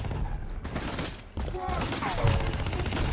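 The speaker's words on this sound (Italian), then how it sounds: "Oh, l'ho ucciso con la pistola." Pistol fire in the Black Ops 3 video game rings out in bursts amid dense, busy game noise and effects, with a voice talking over the action.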